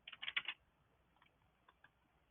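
A short, quick burst of computer keyboard keystrokes typing a word into Excel's help box, quiet and close, followed by a few faint isolated key taps.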